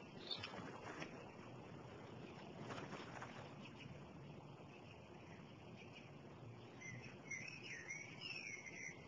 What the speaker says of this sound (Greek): Ένα σπουργίτη είναι